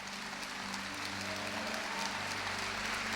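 A Catholic congregation applauds during a sermon, a steady wash of many hands clapping at moderate distance, continuous and fairly subdued throughout.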